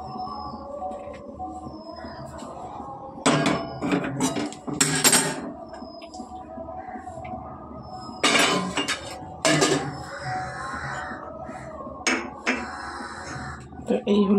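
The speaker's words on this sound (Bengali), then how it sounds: "চাটা ঢেলে নেব।" Morning tea poured into cups in a home kitchen, with clinks of cups and dishes in scattered bursts between quieter stretches, close and moderately loud over a low background hum.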